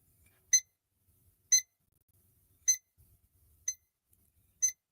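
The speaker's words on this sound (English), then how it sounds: "I changed the batteries in my thermometer, and somehow I've got the alarm triggered on it." A digital thermometer's alarm, triggered after a battery change, sounds five sharp, bright beeps spaced about a second apart, close and clear over a quiet room.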